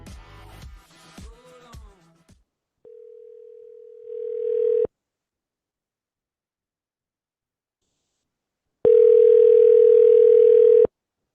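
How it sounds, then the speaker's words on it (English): A telephone line tone sounds while a call tries to reach someone. Brief talk comes first, then a long steady electronic tone, a few seconds of silence, and a second loud, sustained tone. "Trying to get Vinman on the horn right now for our correspondent"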